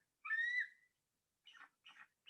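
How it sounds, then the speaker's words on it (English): A high, thin piping whistle of a bald eagle calling, followed after a pause by three short chattering notes, fairly faint with no other sound. "There's our intimidating bald eagle."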